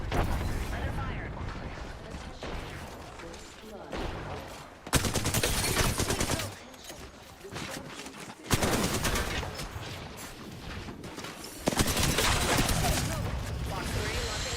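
Video game gunfire, bursts of rapid automatic shots breaking out loud and close in several long volleys, with quieter mechanical clatter and rumble in the gaps between them.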